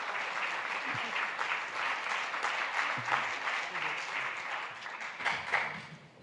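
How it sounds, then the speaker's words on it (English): Audience applause fills a film festival screening hall at the Berlinale, a steady dense wash of clapping lasting several seconds with a few louder bursts and faint shouts mixed in. "thank you for your applause and the answers that you have shouted out"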